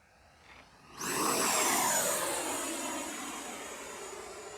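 A Horizon Hobby F-18 80mm Blue Angels RC jet roars past, its ducted-fan whine rising suddenly to a loud rush and then slowly fading as it flies away.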